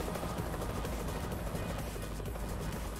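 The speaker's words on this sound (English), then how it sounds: "I hear a helicopter overhead" A helicopter passes overhead in the trucking game American Truck Simulator, a steady broadband rotor and engine roar that holds loud and even for the whole stretch with no talk over it.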